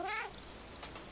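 A cat meows in the video game Stray: one clear, close meow with a rising-then-falling tone at the start, followed by quieter background sounds.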